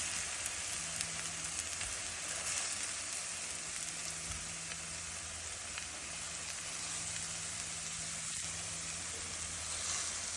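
Fried trout pieces sizzle steadily in a pan of curry with coriander powder, a dense continuous crackle running the whole time at close range with no talk.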